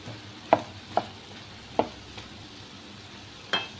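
Tomato peanut chutney with tamarind is stirred in a pan; a spoon scrapes the pan four times in sharp, spaced knocks over a soft, steady sizzle.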